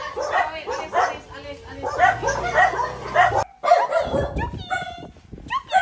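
Several dogs at a house in Davao City bark and yip excitedly close by, overlapping in quick, high-pitched bursts, with voices mixed in.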